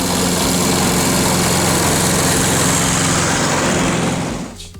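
A small Wolf PM Rotondor push lawn mower engine runs steadily at a loud, constant drone, close by, before cutting off abruptly at the end.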